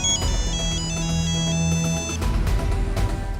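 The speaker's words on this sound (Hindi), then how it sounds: "दिग्विजय की घंटी बज गई।" A mobile phone ringtone plays a bright, repeating electronic melody, loud and close, over a background music bed in a Hindi family comedy series.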